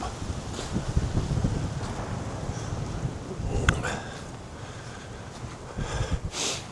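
Wind gusting outdoors on a dog walk around Clifton, Derbyshire, a low rumbling buffet against the microphone with rustling, rising and falling, fairly quiet and with no voices.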